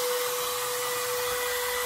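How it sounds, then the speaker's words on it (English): A small handheld router with a round-over bit cuts along an MDF edge, giving a loud, continuous high motor whine with a steady pitch and a hissing cutting noise. "we're gonna take this little router right here. It has a rounding over bit on it. We're gonna round over this edge"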